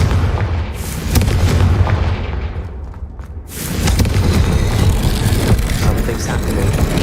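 A Confringo fire spell bursting in Hogwarts Legacy, heavy booming blasts and rumbling thumps in loud waves, a brief lull midway and then another roaring surge.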